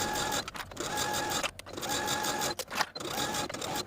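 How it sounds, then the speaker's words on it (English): A sewing machine whirs in quick mechanical bursts, edge-stitching the fabric of a shirt, with brief pauses between runs. "take it to your sewing machine and edge stitch close to this inner fold all the way around"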